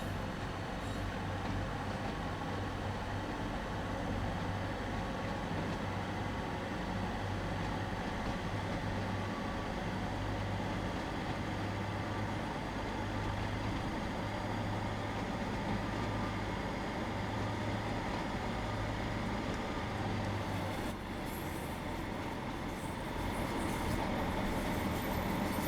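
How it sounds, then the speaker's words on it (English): A train in Train Sim World 2 on the route into St Erth runs steadily for the whole stretch, with a continuous low rumble and hum from the train and the rails and no voices over it. "Our final train for Train Sim World 2."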